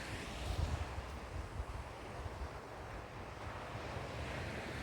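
Ocean waves at the sea, a soft distant wash of surf blended with low wind rumble against the microphone, steady and fairly faint with no voices.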